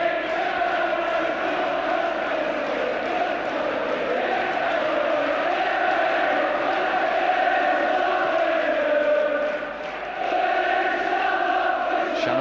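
A large crowd of Manchester United fans in a stadium roars and chants in a steady, dense wash of voices, loud and continuous with a slight dip near the end.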